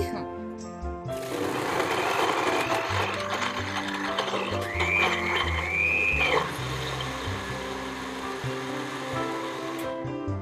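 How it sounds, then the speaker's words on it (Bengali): A countertop blender whirs steadily, blending mango with chopped mint for a lassi, running loud and continuous for most of the stretch with slight pitch shifts as the contents churn, while people talk over it. "সো এখন আমরা ব্লেন্ড করে ফেলবো।"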